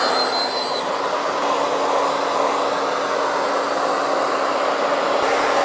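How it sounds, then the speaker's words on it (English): A hair dryer blows with a loud, steady rushing whir and a constant motor hum, running without pause, close by and with no talking. "hairdryer."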